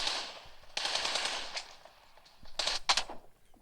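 AKM rifle fire in an online shooter game comes in rapid bursts of sharp cracks, several separate volleys with short pauses between, at moderate loudness.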